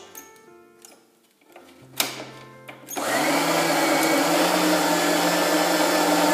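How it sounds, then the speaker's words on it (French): An electric juicer presses bergamots and oranges. A few clicks and clunks come first, then the motor starts up with a loud, steady whirring grind that runs to the end. "je vais presser les bergamotes et les oranges"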